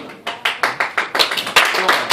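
Rhythmic clapping from a lecture audience, a series of sharp close claps about every quarter second, growing slightly fuller and louder over two seconds.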